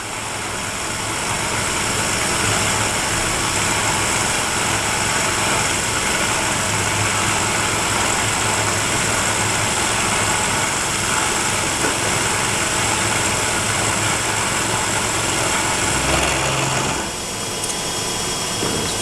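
A metal lathe cuts a groove at roughly 1200 RPM, a loud continuous machine whir and hum that holds steady throughout with a slight change near the end, and no talk.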